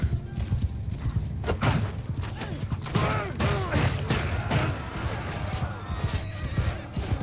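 Hooves clatter in a busy, continuous rhythm while a horse whinnies in a Realm of Thrones video game battle, with clashing battle noise and occasional voices mixed in.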